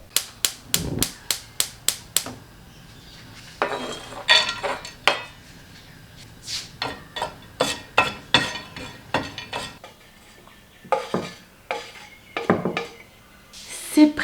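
Pecans rattle and clink against a pan as they toast, a run of sharp, regular knocks like tossing or stirring, with scattered softer scrapes and a few quieter gaps.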